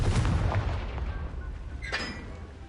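A booming explosive spell blast from the Hogwarts Legacy video game, a loud low rumble with a short crackling burst, close and dense, with no talking.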